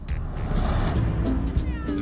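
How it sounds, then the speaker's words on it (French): A four-year-old tabby cat meows loudly and close, a drawn-out plaintive call running through the whole moment over a low rumble of passing traffic. "Larry est un chat tigré de 4 ans qui attendait un maître au refuge de Battersea à Londres"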